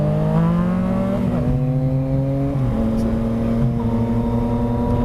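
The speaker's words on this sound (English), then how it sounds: "Man, that exhaust sounds really good." A Yamaha FZ-09 motorcycle with Power Commander tuning and an aftermarket exhaust, steady engine drone while riding at a demo day, its tone shifting slightly as the revs change, continuous and close.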